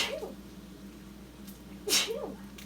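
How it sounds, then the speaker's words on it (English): A person sneezes twice in a home kitchen while making a sandwich, with a short sneeze at the start and a louder, sharper one near the end, both close to the microphone over quiet room tone. "I sneezed away from my food."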